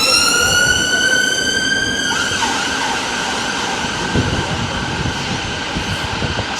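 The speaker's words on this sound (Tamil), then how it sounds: "போலீஸ் வாகனம் ஒரு பக்கம் ஆம்புலன்ஸ் ஒரு பக்கம் ஒரே சத்தமாக தான் இருக்கும்" Police vehicle and ambulance sirens wail through central London traffic, loud rising-and-falling tones that change pitch as a vehicle passes, over a busy street rumble with no talking.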